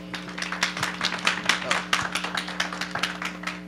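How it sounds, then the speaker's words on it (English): Scattered clapping from a small group at a city budget work session, with uneven, crisp claps repeating close by over a steady electrical hum. "I'm getting claps."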